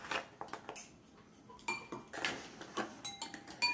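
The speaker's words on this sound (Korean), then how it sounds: "한 티스푼 섞어주세요" A teaspoon clinks against a glass as sugar is stirred into water, producing repeated light metallic taps and scrapes at close range, with no voices.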